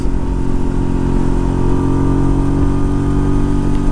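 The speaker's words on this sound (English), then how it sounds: "I'm getting used to the buzziness" A 500cc touring motorcycle engine, heard while riding as a loud, steady, close buzzing drone with a constant pitch, accompanied by wind rush.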